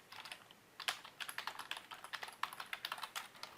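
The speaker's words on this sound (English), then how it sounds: "So I'm going to type that in here." Steady, fairly quiet typing on a computer keyboard as a host address is entered, a run of quick key clicks in irregular bursts with no talking.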